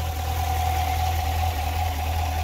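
A Chevrolet Corvette's 6.2-liter V8 idles under an insulated hood, giving a steady, even low rumble with a constant mid-range drone and no voices.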